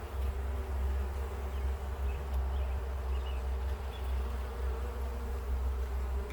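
Honey bees buzzing steadily and close during a beehive inspection, a dense continuous hum from many insects with no talking over it.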